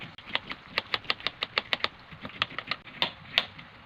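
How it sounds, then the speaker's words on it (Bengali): Boti blade chopping through a dried plant stem, a steady series of sharp, close cuts in a quick irregular rhythm with no talk. "এটা আমি বটি দিয়ে কাটছি"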